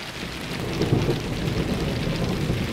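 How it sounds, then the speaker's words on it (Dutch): Heavy rain pours down during a thunderstorm in a dense, steady hiss, with a low rumble swelling underneath, no voices present. "zoals jullie zien is het keihard aan het regenen"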